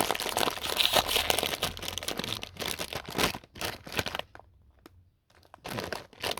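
A crinkly bag of Takis chips gets crumpled and torn open close to the mic, with loud bursts of plastic rustling, a short quiet pause, and then more crinkling.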